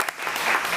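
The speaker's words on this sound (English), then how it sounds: "So please give them a round of applause." An audience claps loud and close at a school board meeting, a brief dense burst of applause that swells slightly before cutting off.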